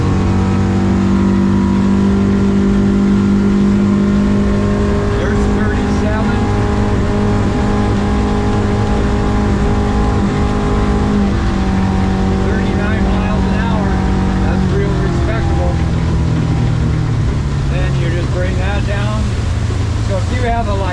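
A Yamaha F150 outboard drives a 21-foot 2025 Seahawk LE boat on a water test, giving a loud, steady engine drone with a strong low hum that shifts pitch slightly partway through. A voice may be speaking over it.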